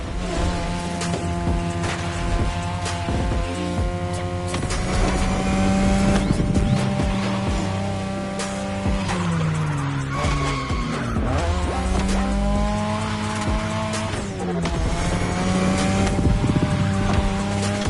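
A 2002 third-generation Mazda RX-7 with a rotary engine races in The Crew Motorfest, its high, buzzing engine note rising and falling through gear changes, loud and close, with tire squeal and no talking.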